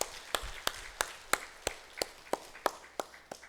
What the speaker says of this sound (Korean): 다시 한번 우리 하나님께 영광의 박수 드리겠습니다.